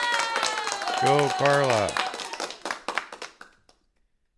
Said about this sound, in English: We'll give that one an applause.